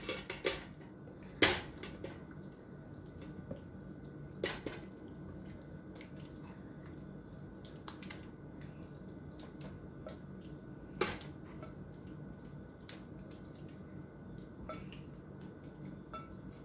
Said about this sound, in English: there is some water running out of it now